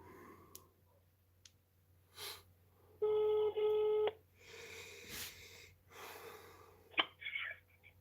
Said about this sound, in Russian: Звоним.